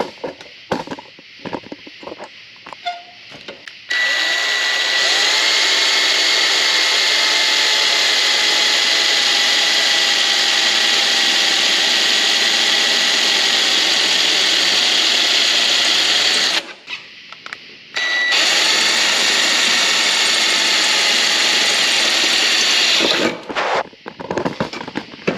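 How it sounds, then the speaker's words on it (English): A power drill bores into a piece of wood placed in front of a Nissan 370Z's AC condenser, a loud steady high-pitched whine running for long stretches with brief stops and short bursts at start and end. "Now I'm going to drill, which is why I have the wood here."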